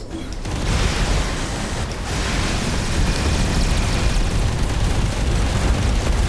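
A big enemy ship explodes in the space game Everspace 2, a dense, roaring blast rumbling on steadily and loud for several seconds with no clear break, heard alone.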